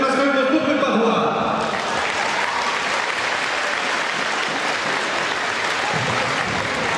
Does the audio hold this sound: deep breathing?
no